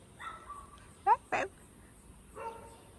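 Dogs bark outdoors in the early morning, a few sharp yips and barks spaced across a quiet moment, moderately close with soft ambient background.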